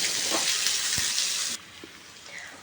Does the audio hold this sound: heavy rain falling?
no